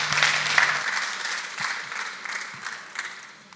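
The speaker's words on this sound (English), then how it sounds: "round of applause for a volunteer" An audience claps for a volunteer called up at a live talk event, a short burst of crowd applause that fades toward the end, with faint voices mixed in.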